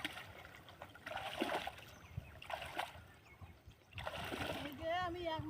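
A prawn-fishing net is dragged behind a boat on a river, with intermittent water splashes and swishes rising and falling in bursts under nearby background chatter.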